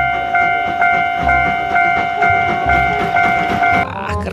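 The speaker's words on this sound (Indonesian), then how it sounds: "Ini bukan mobil, ini lokomotif kereta api." Repeated mechanical toots over a rumbling, rhythmic chugging, like a toy train locomotive running close by with pulsing beats.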